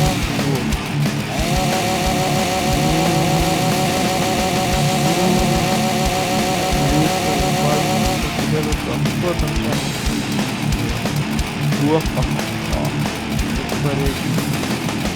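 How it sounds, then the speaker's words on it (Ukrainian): A chainsaw engine in the video game The Walking Zombie buzzes and revs continuously, loud and close, with game sounds and occasional voices mixed over it. "Візьміть бензопилу."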